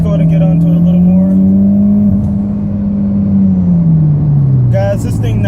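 A 2014 Mitsubishi Evo MR accelerating, heard from inside the car as a loud, close, steady engine drone that holds its pitch and then eases slightly lower toward the end.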